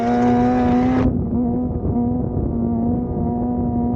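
Superbike engine, a 600cc to 1400cc class machine, droning steadily at low speed through a slow wheelie, a loud close whine that drops sharply in pitch after a second and then holds an even, sustained hum.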